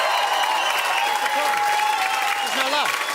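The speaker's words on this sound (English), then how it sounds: "I'm not clapping enough. Not clapping enough." Audience applause at a comedy sideshow, a steady wash of clapping that runs loud and unbroken throughout, with a voice talking over it.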